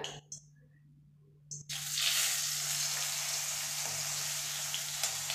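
After a few quiet clinks, taro drops into hot oil and a loud, steady sizzle of frying takes over.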